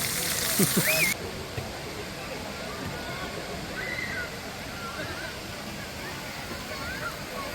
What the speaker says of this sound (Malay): Tepi air terjun yang indah.